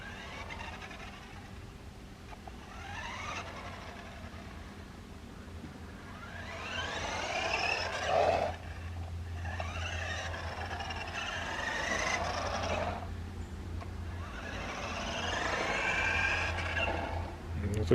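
A Tamiya Falcon radio-controlled model car running, its small electric motor and gears whining in rising and falling surges that swell and fade several times, fairly faint and steady in the background.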